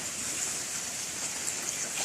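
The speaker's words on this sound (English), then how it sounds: "raining non-stop nonetheless." Steady rain falling on a chilly Monday morning, a dense even hiss of drops on surfaces, close and continuous without pauses, no talking over it.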